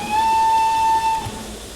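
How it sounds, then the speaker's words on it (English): A steam locomotive whistle from an LBSCR E1 in a train simulator game gives one long, steady, loud blast of about a second that then cuts off, leaving a faint hiss. "The whistles are the same, so spacebar is this"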